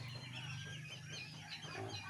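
Ducklings (bibe) kept in a bird cage peep and cluck in a close, dense chatter of soft calls over a low background hum, no talking.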